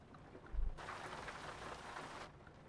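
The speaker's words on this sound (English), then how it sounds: "Sure is rainy out today." Steady rain hisses in American Truck Simulator, a broad wash of falling drops that swells in mid-clip, with a soft low thump near the start and no voices.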